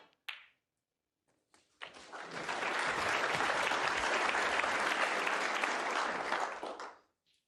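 Snooker crowd at the 2023 World Championship, Ding Junhui versus Hossein Vafaei, bursting into sustained applause after a brief tap, the clapping swelling quickly and holding steady for about five seconds before stopping abruptly.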